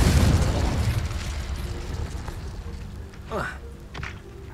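A Confringo fire spell bursts in Hogwarts Legacy, a loud blast at the start followed by a rumbling decay, with a sharp whooshing sweep and a smaller pop later amid game sound effects.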